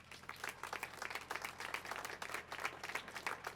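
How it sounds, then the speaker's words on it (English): An audience applauds event volunteers at a Memorial Day gathering in Danville, steady dense clapping from many hands, faint and somewhat distant, continuing throughout. "Please give them a round of applause."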